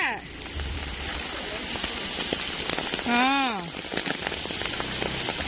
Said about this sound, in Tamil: இது நிக்காது போலயே இந்த மழை.